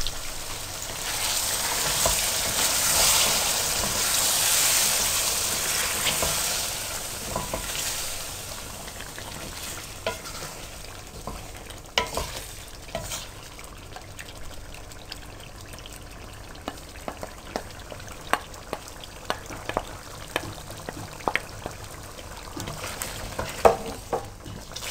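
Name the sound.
chicken frying with whisked yogurt added to the pan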